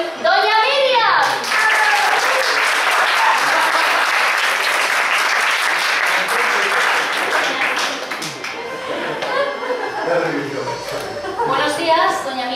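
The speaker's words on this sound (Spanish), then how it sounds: "vamos a recibir con un fuerte aplauso a nuestra concursante de hoy, Doña Miriam" Audience applause welcoming a game show contestant, a sustained roar of many hands from a studio crowd, with voices talking and light laughter at the start and end.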